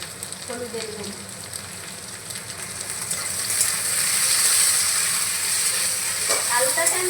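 Potatoes with salt and turmeric frying in hot oil, a steady crackling sizzle that swells louder midway, with occasional clinks of a utensil stirring near the end.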